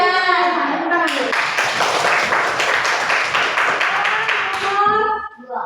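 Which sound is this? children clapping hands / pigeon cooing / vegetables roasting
children clapping hands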